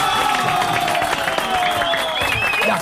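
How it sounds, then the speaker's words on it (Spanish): Studio audience applause and crowd noise on a Peruvian sports talk show, with clapping mixed under overlapping voices and whistle-like tones, fairly loud and busy throughout. "Un aplauso, por favor."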